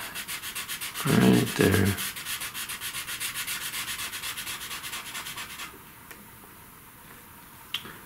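A black pastel stick being sharpened gives a close, dry rasping scrape for about a second, followed by quieter, rhythmic scratchy rubbing. A few brief words are spoken.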